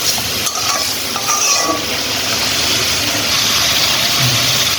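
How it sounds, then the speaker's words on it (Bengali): A pan of Bengali gourd and shrimp curry (lau chingri) being stirred, its water cooked off: steady, close frying sizzle with scraping stir strokes, continuous and fairly loud throughout, no talking. "একটু নেড়ে চেড়ে নিব।"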